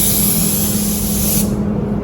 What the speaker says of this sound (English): I already think this gun's dirty. Something is definitely not spraying right